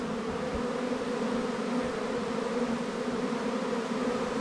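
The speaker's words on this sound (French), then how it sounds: "c'est de la patience parce que faut attendre que l'ensemble des abeilles rentrent dans la ruche" A honeybee swarm entering a hive makes a dense, steady droning buzz, close and continuous with no voices.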